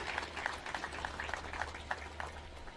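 An audience at an outdoor home fire sprinkler ceremony in South Carolina gives faint, scattered applause. The separate claps sound distant over a low steady hum.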